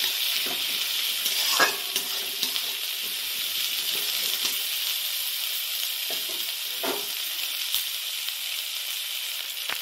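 Onions frying in a pan until light brown for a Bengali mustard katla fish curry, a steady close hiss and sizzle broken by a few soft stirring scrapes and clinks.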